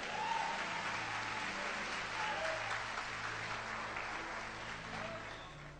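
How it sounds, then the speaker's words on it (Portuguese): A church congregation at an evangelical crusade service in Cuiabá applauds steadily and loudly for about six seconds, a dense, sustained wash of many hands clapping with faint voices and cheers mixed in. "Os que podem, tomem o seu assento aplaudindo a Jesus, porque Ele é bom."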